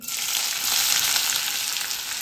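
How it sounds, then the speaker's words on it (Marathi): Onion hitting hot oil in a kadai, a loud, close, continuous hiss of frying with no talk or other sounds. "तेल गरम झालेलं आहे त्याच्यामध्ये कांदा घालून घ्यायचा आहे"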